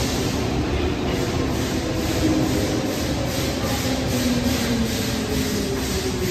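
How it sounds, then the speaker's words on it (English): A Stockholm subway train moving through a station, a steady close rumble with rhythmic wheel clatter and faint squeal, loud and continuous with no talk. "Yikes, that's my train."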